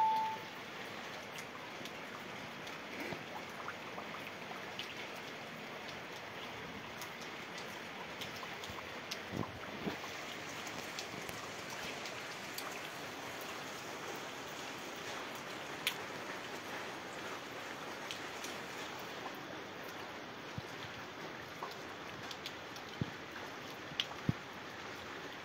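Rain falls steadily outdoors as a light, continuous hiss of drops, faint and even throughout, with occasional small taps and a little wind noise.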